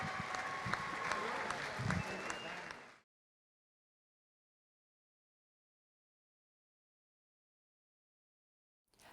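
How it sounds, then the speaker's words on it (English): Crowd applause at a high school boys basketball playoff gathering, honoring the seniors, a dense wash of clapping with some voices for about three seconds before cutting off into silence. "How about another round of applause for our seniors?"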